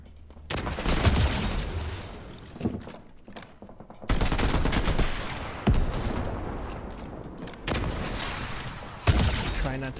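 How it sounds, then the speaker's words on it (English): Bazooka blasts and rapid gunfire in Fortnite, with long loud bursts of shooting and explosions separated by brief pauses, ending in a sharp blast. "I just get out my bazooka and just try to pick them off one by one"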